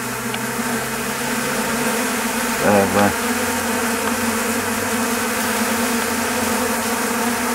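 Steady, dense buzzing of many honeybees close to the microphone as they feed on honey, continuous throughout with a brief louder swell near the middle.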